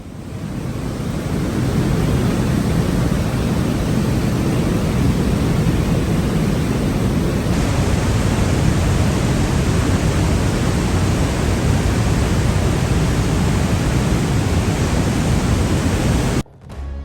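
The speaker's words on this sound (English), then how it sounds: "Listen to the power of the water." A loud, steady roar of rushing water at Trümmelbach Falls in Switzerland, constant and broadband from start to finish, close by and unbroken by voices.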